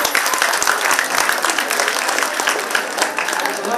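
Audience clapping at the Shree Mahamaye Mariamman Temple Mahashivratri function in Dharavi, loud, dense applause from many hands continuing steadily throughout.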